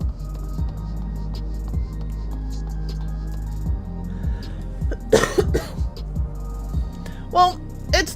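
A man coughs a few times in a short cluster partway through, then clears his throat, over a quiet, steady background hum during a casual gaming chat about Final Fantasy XIV.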